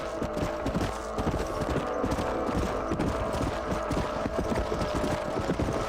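Horse hooves clip-clop steadily in the video game Red Dead Redemption, a dense, loud, continuous rhythm of several horses moving together without pause.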